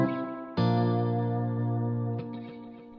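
Sustained tones run through a Pulsar Echorec tape delay, sounding as repeating, layered echoes with a bright surge midway that slowly decays, alone with no talk.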